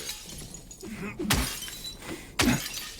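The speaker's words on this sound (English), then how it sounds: "Smashing things in video games." In a video game, objects smash in two loud shattering crashes about a second apart, with glassy breaking debris and quieter clatter between them.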